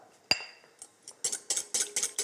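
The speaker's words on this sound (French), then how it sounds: "avec un fouet, je mélange mes jaunes d'œufs" Egg yolks beaten with a whisk in a bowl: a sharp clink, then a run of quick rhythmic metallic taps and scrapes against the bowl, close and alone.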